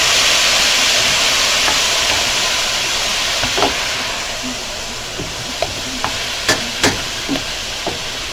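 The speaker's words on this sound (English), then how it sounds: "Go ahead and stir this in. Stir this together really," Cauliflower rice is stirred in a hot frying pan: a steady broad sizzle with a spoon scraping and clinking against the pan, the sharp knocks growing more frequent toward the end.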